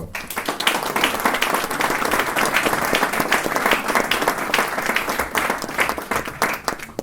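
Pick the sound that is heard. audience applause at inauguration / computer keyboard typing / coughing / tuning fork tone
audience applause at inauguration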